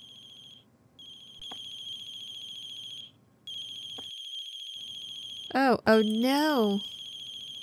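A phone ringing in the horror game The Closing Shift, a repeating electronic ringtone in steady bursts broken by short pauses, with a startled voice cutting in near the end over the ringing.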